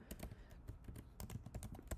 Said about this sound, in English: I feel like I'm typing super slow.